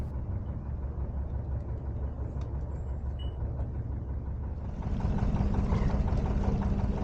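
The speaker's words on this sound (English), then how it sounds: "I'm going to get the engine started now" A narrowboat engine running at idle, a steady low mechanical rumble that grows louder and fuller about two-thirds through as the engine picks up, heard close with no talk.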